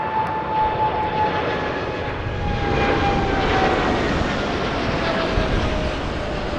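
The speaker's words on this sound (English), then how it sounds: "beautiful aircraft. 787 icy blue livery." An Air Canada Boeing 787 in icy blue livery passes at Toronto Pearson airport, its jet engine roar a steady broadband rumble that swells slightly midway, with a faint falling whine, fairly distant and alone without talk.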